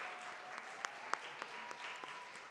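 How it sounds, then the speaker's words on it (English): An audience at an arts summit applauds its presenters, a steady patter of many hands heard faint and at a distance, with a few sharper individual claps standing out. "please join me in giving our presenters one last round of applause"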